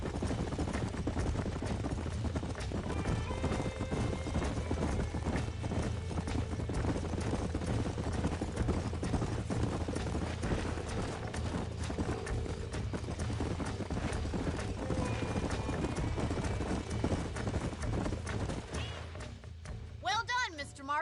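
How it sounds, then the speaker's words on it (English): Horses' hooves clip-clopping in a video game, a steady continuous patter of hoofbeats over a rumbling background throughout, with a voice talking over part of it. "These are fine horses."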